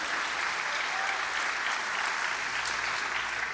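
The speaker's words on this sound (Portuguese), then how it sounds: "aplauda Jesus, faça alguma coisa aí" Church congregation applauding during a sermon, a steady wash of many hands clapping, fairly distant and even throughout without speech.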